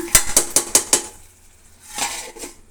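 Five quick, sharp metallic clinks in a row, then a brief sizzling rush as hot tempering is poured into a pot of sprouted horse gram sambar.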